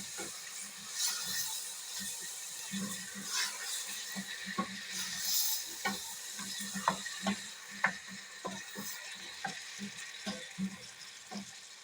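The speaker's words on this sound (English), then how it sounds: "So we let that cook down for like 2 minutes" Vegetable stew with turmeric and freshly added tomatoes bubbles and sizzles in a pot, with a steady frying hiss broken by irregular soft pops and stirring clicks throughout, no voices.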